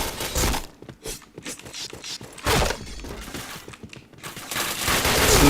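Bursts of gunfire and sharp impacts during a Point Blank shooter match, coming in several loud clusters separated by short quieter gaps.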